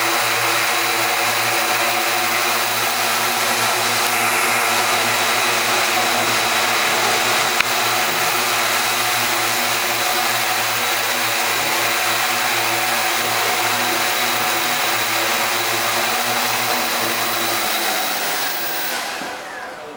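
Octocopter drone hovering indoors at low throttle, a loud, close, steady whining rotor buzz that holds evenly before fading slightly at the end, no talking.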